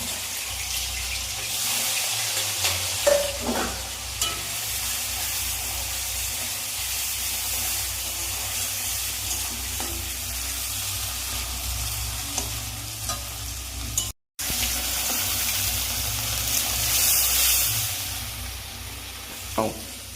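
Salted, turmeric-coated shrimp fry in oil in a wok with a steady close sizzle, joined by the scrape and clatter of stirring at intervals. A brief cut interrupts it partway through, and nobody talks.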